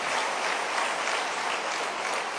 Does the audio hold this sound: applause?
yes